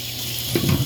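Boiling water poured from a kettle into a pot with sticky residue, a short close splash and gurgle after a moment of quiet.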